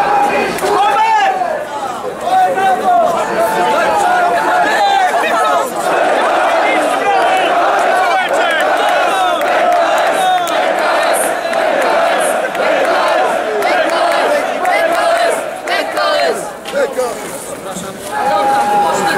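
Jagiellonia Białystok football fans celebrating at University Square, a large dense crowd chanting and cheering loudly and continuously, voices blending into a sustained roar with rhythmic chants throughout.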